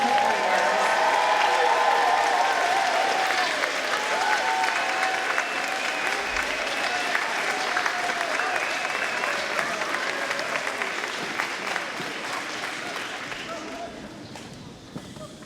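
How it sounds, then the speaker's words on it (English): A school audience applauds a group of fifth graders at a lower school celebration, dense sustained clapping from a large crowd that fills the room and slowly tapers toward the end. "let's just have one more last round of applause for this amazing group of fifth graders"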